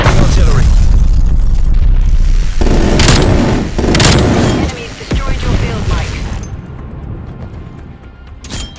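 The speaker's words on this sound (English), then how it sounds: "Neckhall, incoming artillery." Artillery explosions in the Call of Duty Black Ops Cold War video game: loud, booming blasts with sharp impacts around the middle, followed by a fading rumble and scattered pops as the barrage dies down.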